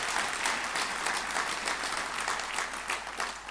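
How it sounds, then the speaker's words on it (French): An audience applauds bakers with a dense, steady wash of clapping that holds at an even level for a few seconds, with no voices breaking through. "Vous pouvez les applaudir évidemment."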